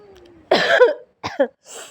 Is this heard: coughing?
yes